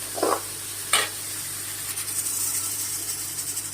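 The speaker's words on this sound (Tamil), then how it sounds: "வெங்காயம் வதங்கும் போது ஒரு பத்து பதினஞ்சு பூண்டு பல்ல அதில் சேர்த்து" Onions and garlic cloves sautéing in a pan for brinjal kara kuzhambu: a gentle, even frying hiss with two brief scraping stirs near the start, close and steady, with no talk.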